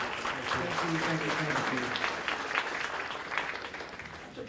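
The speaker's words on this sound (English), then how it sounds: "Let's give another round of applause." A lecture-series audience claps in a steady round of applause that tapers slightly toward the end, with a brief spoken thanks over it.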